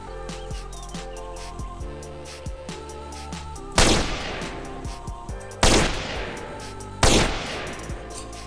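Three loud, booming sniper rifle shots from a red-and-black GTA San Andreas weapon pack ring out at spaced intervals, each with a long decaying tail, over a quieter musical backdrop.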